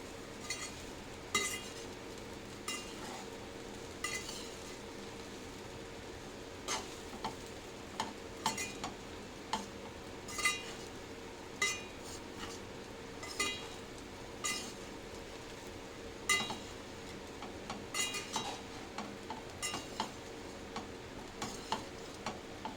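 Fried rice being stirred and tossed in a pan over the flame, with a steady run of light scraping taps and clinks of the spatula against the metal over a faint sizzle, at a moderate distance with no talk.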